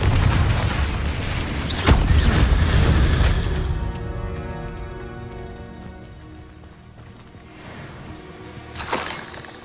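Confringo explosion spell in Hogwarts Legacy, a loud sharp blast with shattering crackle that rings out and fades, followed later by a second smaller burst; no talking.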